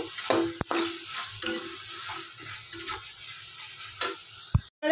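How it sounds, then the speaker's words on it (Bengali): Soya chap curry masala is stirred in a pan, with a soft sizzle under scraping spatula strokes and a few sharp knocks against the metal, ending in a loud clatter. "যতক্ষণ না কষা কষা হয় নাড়তে থাকবো"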